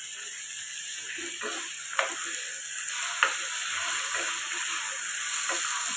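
Rice going into a hot cooking pot makes a continuous soft sizzling hiss, broken by two sharp clicks of a utensil, with no talking.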